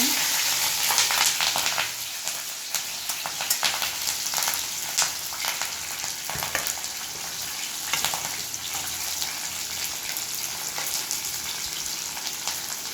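Mustard seeds and green chilli frying in oil in a pan, a continuous fairly quiet sizzle with scattered sharp pops and crackles running for several seconds, and no voices.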